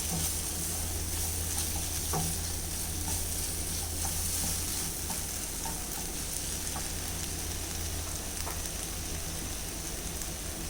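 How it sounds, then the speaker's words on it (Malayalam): Egg masala with tomatoes and ground fennel sizzles steadily in a pan for Kerala-style egg curry, with soft intermittent scraping from stirring over the constant frying hiss. "ഇതൊന്ന് ഇളക്കി മിക്സ് ചെയ്ത് കൊടുക്കാം."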